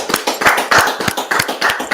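A crowd in a Raleigh Hotel ballroom claps together in a steady run of sharp, close handclaps that keeps going without a break.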